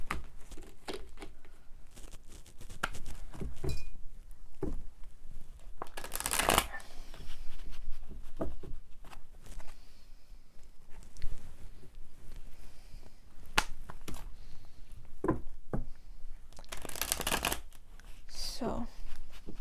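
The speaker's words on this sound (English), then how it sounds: "just bear with me while I shuffle the cards." Tarot cards are shuffled by hand in a series of riffling, papery bursts, with a softer rustle of cards between them, close up and under a quiet background of talk.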